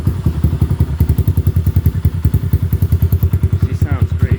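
X-pro DLX Storm 150 motorcycle with a freshly fitted aftermarket exhaust and an untuned carburetor, idling close up with a loud, deep, rapid thumping pulse that stays steady throughout.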